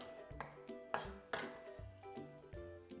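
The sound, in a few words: rough chopping garlic cloves with a knife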